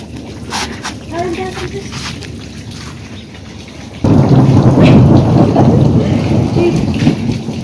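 Heavy hail and rain pounding outdoors during a storm, a dense roar that swells sharply midway, with rumbles of thunder and a barking dog; people talk over it throughout.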